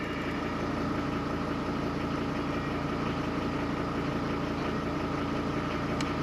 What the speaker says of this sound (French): Alors, moteur diesel.